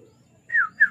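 Two short descending chirps from a bird in a racing pigeon loft, close and clear over a quiet low background hum.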